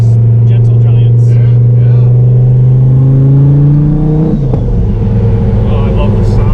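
An Nth Moto twin-turbo Dodge Viper engine rumbles loudly inside the car, its drone rising steadily in pitch under acceleration before dropping with a gear change, while people talk over it.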